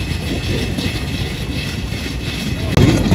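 The Dhumketu Express train runs near Joydebpur station in Bangladesh with a loud, continuous rumbling roll and wind buffeting the microphone, while people talk over it.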